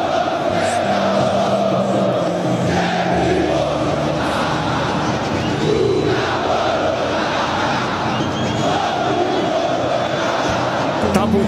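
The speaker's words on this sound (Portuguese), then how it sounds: "Vamos ouvir a torcida do Atlético aqui em Belo Horizonte." Atlético Mineiro supporters chant together in their Belo Horizonte stadium during a Copa do Brasil match against Flamengo, a massed roar of voices rising and falling for several seconds with no break.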